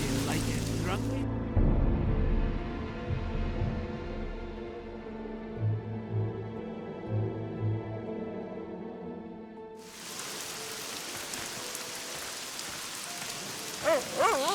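Rain falls in the video game The Witcher 2: Assassins of Kings, a steady patter of raindrops on surfaces. Music plays over it at first, the rain continues through most of the stretch, and someone speaks at points.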